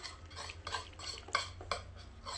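Slime being stirred in a bowl with a utensil, close, soft, sticky clicks and scraping strokes repeating in an uneven rhythm, fairly quiet with no talk.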